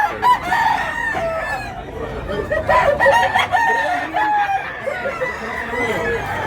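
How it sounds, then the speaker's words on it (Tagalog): A large chicken for sale at a market in Tabunok, Cebu, clucking and crowing repeatedly, close and fairly loud, amid market background noise. "May manok rin mga idol."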